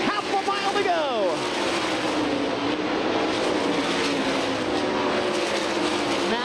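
Sprint cars race around the Eldora dirt oval in a World of Outlaws feature, a dense, loud engine roar with one car sweeping past early, under steady crowd and track noise.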